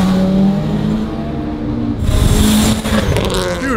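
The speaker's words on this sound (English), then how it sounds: "Rev it up, rev it up. I wanna see the rev." A car engine revs hard near the street, climbing in pitch into a loud roar that then rises and falls in quick throttle blips.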